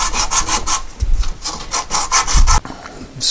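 A wooden cap is scrubbed with rapid back-and-forth rasping strokes, close and loud, in a steady rhythm with a brief pause near the middle.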